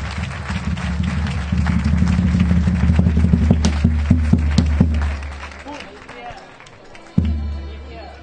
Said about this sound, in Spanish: Un aplauso a Ceci y vamos a echar un ratito.